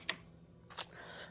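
Keys tapped on an Apple IIe computer keyboard from 1984, a few quiet, close clicks in a brief sparse burst.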